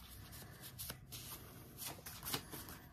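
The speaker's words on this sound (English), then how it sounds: "I guess you guys should see me shuffling" Close, soft riffling of a deck of cards being shuffled, a run of quick fluttering bursts at low volume.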